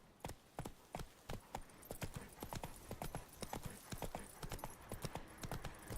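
In The Witcher 3, the horse Roach trots along a road, producing a steady clip-clop of hooves with crisp, evenly spaced beats, fairly close and moderately quiet.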